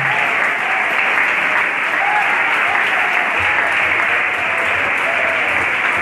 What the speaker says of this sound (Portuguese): Dá um aplauso bem forte para Jesus aí.